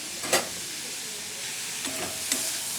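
Potatoes and carrots fry in a pan with a steady crackling sizzle, punctuated by three sharp scraping strokes of a spatula as the vegetables are stirred.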